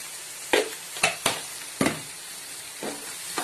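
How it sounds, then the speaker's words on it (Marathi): Chana masala gravy fries in a pan with a low background sizzle, broken by several sharp spoon scrapes and stirring knocks at irregular intervals. "आता परत 2 मिनिटं चांगलं फ्राय करून घेते सगळं."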